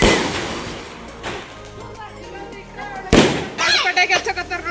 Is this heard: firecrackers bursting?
yes